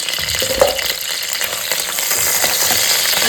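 A spice mix frying in hot oil in a pan makes a steady, loud, dense sizzle that runs throughout, with occasional faint stirring scrapes.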